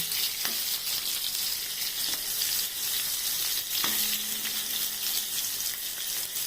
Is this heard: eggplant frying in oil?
yes